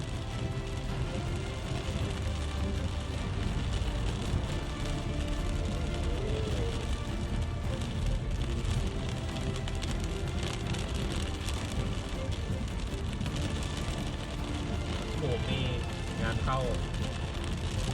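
Heavy rain from an evening thunderstorm drums on a moving car during a drive home in Lamphun, a constant dense hiss over low road rumble, with someone talking intermittently above it.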